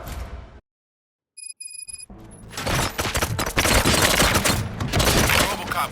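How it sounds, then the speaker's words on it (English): Video game gunfire from Robocop Rogue City: after a brief silence and a few electronic beeps, dense bursts of rapid shots erupt and keep rattling loudly to the end. "Gunshots? What's going on?"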